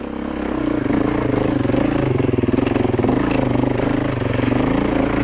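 A dirt bike engine pulls in first gear over rough adventure terrain, loud and close with a steady throbbing drone and slight rises in revs.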